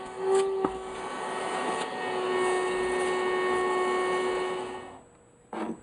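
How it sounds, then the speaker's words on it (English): A vacuum cleaner sucking rust and debris out of the cylinders of a Yamaha XS650 engine, a loud steady whine that runs for about five seconds, then cuts off and briefly restarts. "I'm going to vacuum this stuff off first."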